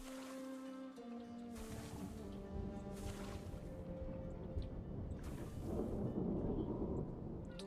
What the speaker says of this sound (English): I love the relaxing sounds of the thunder.